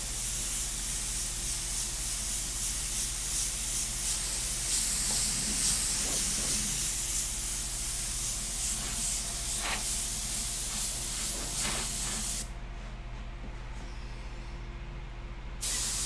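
An airbrush dusting sepia paint over an artwork gives a steady, close airy spray hiss that runs for about twelve seconds, with a hum of the compressor beneath it, before the hiss cuts out near the end.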